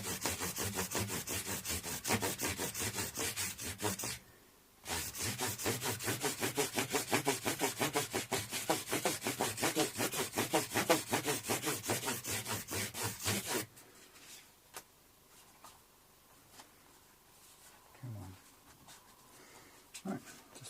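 A fast back-and-forth hand sanding of a Les Paul copy guitar's finish with 3200-grit paper makes a dense, rhythmic rasping scrub, loud and close for about thirteen seconds with one short break. Quiet handling noises follow.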